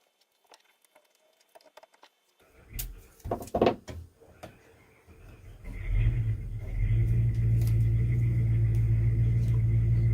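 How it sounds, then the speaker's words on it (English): Ford Maverick Grabber engine: a few knocks and clunks, then the motor starts and settles into a steady, fairly loud low idle rumble that continues to the end. "You all hear that motor running?"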